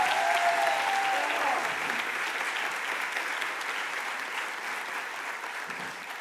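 An audience applauds a Somali dance troupe at a conference opening plenary, steady dense clapping that starts loud and tapers slightly over several seconds, with a brief whistle-like tone near the start.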